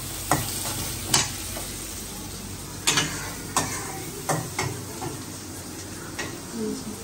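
Prawns being sautéed in a pan for kosha in a home kitchen, with a low sizzle under scattered scraping and clinking strokes of a utensil against the pan, irregular and moderately close.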